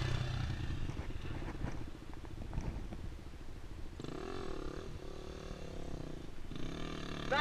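A custom Beta dirt bike engine revs and roars close by, a rough, continuous motor note that rises in pitch as the bike picks up speed, with rider noise over it.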